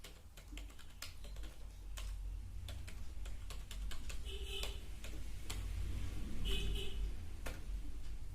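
Keys clatter on a computer keyboard as a C++ for loop program is typed, with irregular close clicks and short bursts of taps over a low background hum.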